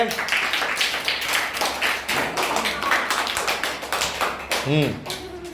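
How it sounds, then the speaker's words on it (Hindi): Audience clapping at a National Unity Day school event, loud rhythmic claps in a hall, with a voice speaking over them and a brief vocal sound near the end. "ताली बजाइए जोर से"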